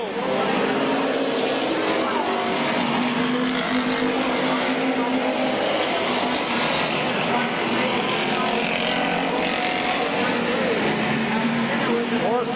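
Stock race cars roaring through the final laps at Midvale Speedway, a dense continuous engine drone with passing swells, loud and steady throughout, with an announcer's voice mixed in.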